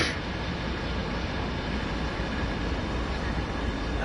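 A heavy freight train in Train Sim World 2 on Sand Patch Grade rumbles steadily as it slows, with a continuous low roar and rolling noise throughout.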